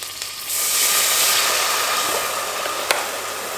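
Flour and milk cook in a lightly oiled pan with garlic and cream, a steady close sizzling hiss that swells after a half second and holds, with a faint clink near the end and no talking.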